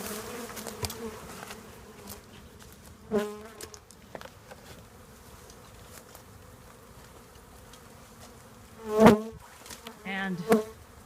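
A honey bee swarm in a Denver backyard farm, being captured into a box, fills the air with a soft, continuous buzz that swells into louder close passes a few times, with no voices.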